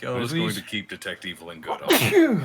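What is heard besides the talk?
sneeze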